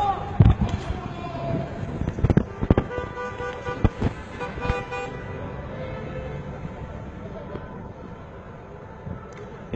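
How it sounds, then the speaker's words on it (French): Bursts of gunfire crack out in the first half of a street scene during a terror attack in Paris, sharp and loud at first, then thinning into distant city noise, with voices nearby. "Shooting again."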